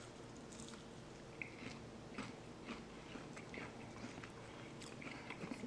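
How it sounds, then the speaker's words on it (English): Quiet, crisp crunching bites into a fried grit stick and chewing at close range, a few sharp crackles scattered over a steady low background hum. "we're going to taste one of these grit sticks that I have here"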